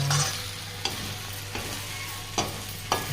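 Tomatoes frying in a pan for a homestyle mushroom curry give a steady broadband sizzle, with a few sharp stirring scrapes standing out at intervals; no one speaks.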